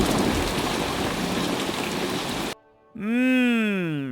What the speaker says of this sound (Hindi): अगले कई दिन तक बारिश चलती रही।